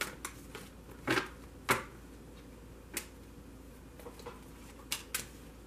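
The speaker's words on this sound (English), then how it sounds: "I'm only going to shuffle it for just a moment." A tarot card deck being briefly shuffled yields soft papery riffles and a few sharp card snaps, faint and sparse against a quiet room.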